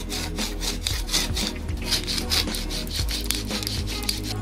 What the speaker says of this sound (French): un glaçon, ça se découpe vraiment tout seul quand vous avez le bon couteau